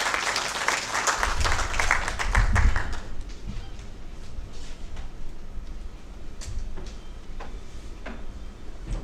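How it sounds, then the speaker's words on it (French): Audience applause greets the French ambassador at a Cameroonian decentralisation forum, a loud burst of clapping that fades within a few seconds into scattered claps and light room noise. "sous vos applaudissements"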